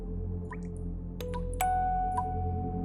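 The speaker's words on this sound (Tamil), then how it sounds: "அந்த வீட்டு மாடத்திலிருந்து தண்ணீர் சொட்டும் சத்தம் கேட்டது" Water drips in a spaced, irregular series of bright plinks, each drop clear and close over a low background hum, some ringing briefly before fading.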